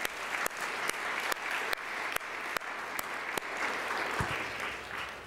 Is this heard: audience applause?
yes